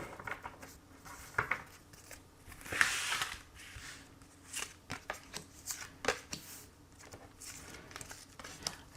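Tarot cards being shuffled and drawn by hand for a reading, giving soft riffling and sliding paper sounds with a few sharper snaps and flicks, close up and steady.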